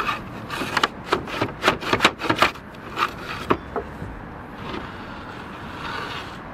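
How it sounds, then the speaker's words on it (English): A slate ripper works under a nailed slate on an old wooden fascia, making a series of scraping, rasping strokes with sharp knocks, close and fairly loud, before fading into a quieter rustle. "it's quite hard to get that ripper underneath this bottom slate"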